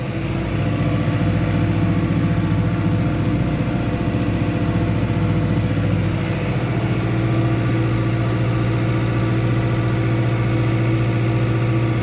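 A tractor engine drones steadily while driving across a wet field spreading potash fertilizer, a loud, close, continuous mid-pitched rumble with a slight shift in tone partway through.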